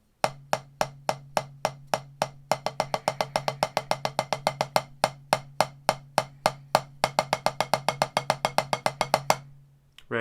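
Single drum practice pattern played slowly with clean, unbuzzed strokes, alternating bars of eighth notes and sixteenth notes; crisp, evenly spaced hits in a steady rhythm, close and fairly loud, with no voices.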